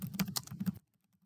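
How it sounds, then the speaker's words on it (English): Quick keystrokes tap on a computer keyboard in a short burst of about eight clicks, close and quiet, then silence. "We're going to type in Google Scholar."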